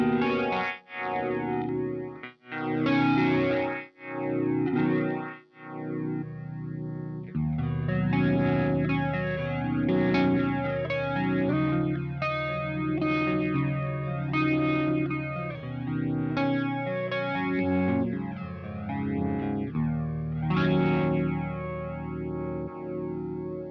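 Electric guitar runs through a versatile multi-effects pedal, giving a distorted, chorused and echoing tone. A few isolated plucked notes come first, then sustained strummed chords and riffs ring out loud and steady with no talking.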